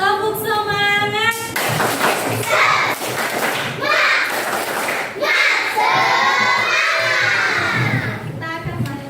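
A class of children in an Indonesian classroom performs a clapping chant together, rhythmic claps and thumps mixed with loud shouted voices and cheering throughout.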